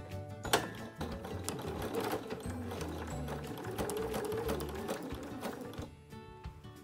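A sewing machine runs continuously, stitching fabric tape onto the edge of a round basket, with a close, rapid mechanical chatter for several seconds before stopping.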